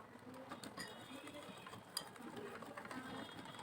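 Whisk beating pitha batter in a bowl, a rapid, continuous scraping and tapping rhythm at low level, with one sharper clink near the middle.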